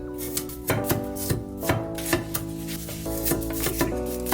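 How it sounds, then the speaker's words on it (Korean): Garlic cloves sliced thin with a knife on a cutting board, a run of crisp, evenly spaced chops close up, with a faint background hum. "마늘은 편썰기를 해서 이제 최대한 단면적으로 넓혀줘요"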